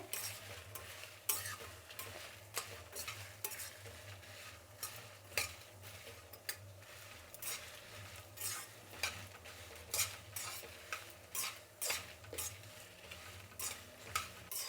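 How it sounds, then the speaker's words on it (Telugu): Kashmiri chillies for thili rasam are roasted in a pan over medium flame, with a spoon scraping and clinking in a steady repeated stirring rhythm over a soft background sizzle, close but fairly quiet. "స్టవ్ ఆపకుండా మీడియం ఫ్లేమ్లో పెట్టుకొని కలబెడుతూనే ఉండాలండి"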